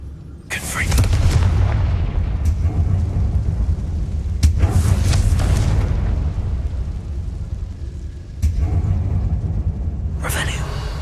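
A Confringo fire spell explodes in Hogwarts Legacy inside an abandoned mine, a loud rumbling boom with sharp crackling bursts that swells and recurs over about eleven seconds.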